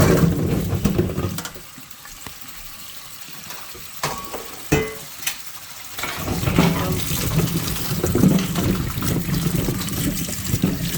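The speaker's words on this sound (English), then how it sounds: "the first thing I'm going to do is I'm going to get these rinsed real well" Jalapeno peppers rinsed under running water, a splashing, trickling stream nearby that stops briefly with a few knocks before flowing again.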